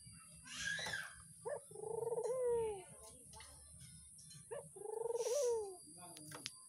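A pet turtledove (burung puter) kept near a house coos softly and close by, two rolling coo phrases separated by a pause, each led by a short note. Faint voices sit underneath.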